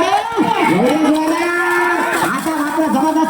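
Bulls at a village mud-ploughing race in the native-breed category, heard through steady loud crowd and commentary noise, with drawn-out lowing calls running throughout.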